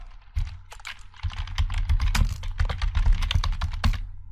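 Someone types a command on a computer keyboard in a fast, close, continuous run of clicking keystrokes that lasts a few seconds with no pauses.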